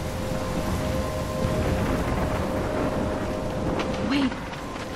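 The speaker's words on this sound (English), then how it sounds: "I'm trapped in a storm?" Steady heavy rain and rumbling thunder fill a storm scene in the video game Life is Strange, a constant dense wash with a faint tonal hum beneath and no voices.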